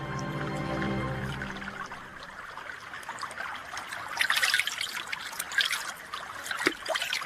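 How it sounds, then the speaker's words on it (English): Stream water trickles and splashes softly as a radio drama effect, faint and close, rising into brighter dribbling bursts after a brief low tonal sound at the start. "There was water, a stream glinting in the sunshine."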